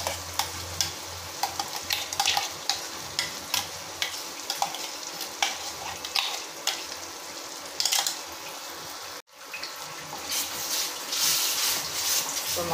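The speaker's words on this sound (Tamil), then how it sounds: "இப்போ மசாலா நல்லா மிக்ஸ் பண்ணிக்கலாம்" Ground masala being stirred into frying chicken gravy, with a constant close sizzle and repeated sharp scraping strokes of a spoon against the pan, one brief dropout near the middle.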